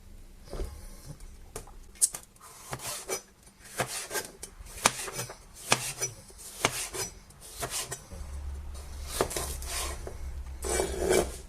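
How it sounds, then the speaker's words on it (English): A knife chopping red pepper into tiny pieces on a cutting board, with a fairly quiet, irregular series of tapping chops and scraping strokes and no talking. "And this red pepper, I'm going to chop it up in tiny pieces also"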